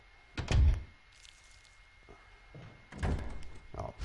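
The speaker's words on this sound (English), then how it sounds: "Oh, yep, did you hear that? Door?" Door in the video game Resident Evil Remastered HD, with two heavy thuds about two and a half seconds apart, close and fairly loud, followed by softer knocks and shuffles.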